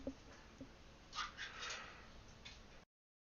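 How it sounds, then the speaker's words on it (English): A house cat meows softly a couple of times, a faint, quiet call in a room, with a voice barely audible. "My cat's saying good evening."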